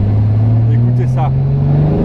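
A Morgan Roadster V6 3.7 accelerates, its engine droning loudly and close with a steadily rising pitch over about two seconds. A voice speaks briefly over the engine.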